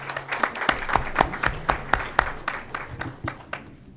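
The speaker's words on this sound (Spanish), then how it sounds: "Un fuerte aplauso, por favor." Applause from a lecture audience at a university discussion on mining in Peru, a modest round of separate distinct claps that stays fairly even and fades out toward the end.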